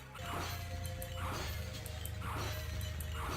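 Clay pots shatter in a video game, three loud crashing breaks spaced about a second apart, each a sharp burst of splintering debris over a steady low hum.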